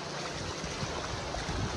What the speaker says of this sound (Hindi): ये जो पानी है वहाँ का वो सारा जा रहा है गाइस वहाँ पे